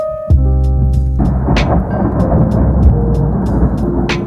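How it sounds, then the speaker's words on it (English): Steady rain pours down while thunder rumbles deep and close near Sucre, Bolivia; a sharp crack at the start gives way to a long rolling boom under the downpour. "I just got caught in a thunderstorm"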